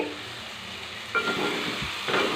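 Three eggs cracked into a hot pan for cabbage chicken egg fried rice, with a steady sizzle and frying hiss that swells louder partway through, plus brief stirring clatter.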